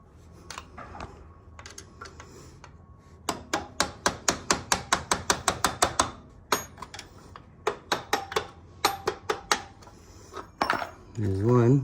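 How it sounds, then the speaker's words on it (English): Hammer tapping bolts out of the dog bone linkage on a 2014 Suzuki V-Strom motorcycle, using a Robertson screwdriver as a drift: long runs of sharp, close metallic taps in steady rhythm, with short pauses between bursts. "I'm just gonna use a Robertson and a hammer to tap those bolts out."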